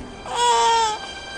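A newborn baby boy crying once, a single short wailing cry heard alone and fairly close.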